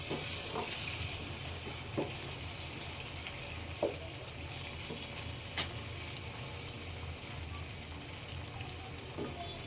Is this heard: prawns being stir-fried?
yes